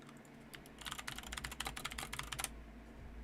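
A quiet burst of rapid computer keyboard and mouse clicks from someone clicking through browser bookmarks, faint and close against a low room hum, with no talking.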